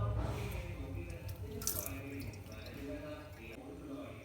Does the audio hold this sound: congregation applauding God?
no